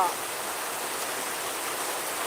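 Heavy monsoon rain during a low-pressure spell in Sunamganj, Sylhet, a steady dense hiss of rainfall with no distinct drops or voices.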